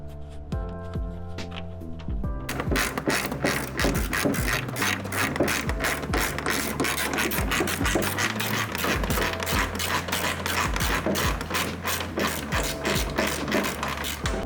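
A power driver runs screws lightly in to hold a carbon fiber GTS hood on its brackets for an F8X car, with a steady mechanical whir and rapid ratcheting clicks that continue close and loud after a brief hum.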